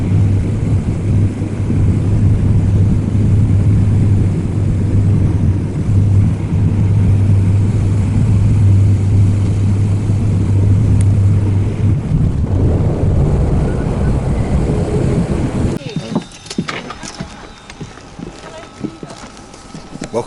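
Steady cabin roar of a small propeller airliner descending toward Alderney near Guernsey, a loud continuous low drone with a strong low hum that thins out in the last few seconds.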